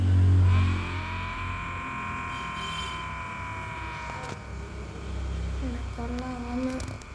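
A Ford Mustang in a video game drifts with a loud steady engine drone and tyre squeal, the pitch bending as it slides, with a brief low thump at the start and renewed revving near the end.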